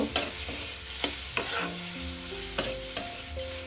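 Papaya kaliya spices and raisins stir-fried in a pan, with a spatula scraping in sharp, irregular strokes over a steady sizzle and soft background music.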